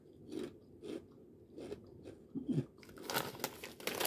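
Great Value sour cream and cheddar potato chips crunched close to the mic in quiet, rhythmic bites of chewing, followed by a burst of bag crinkling.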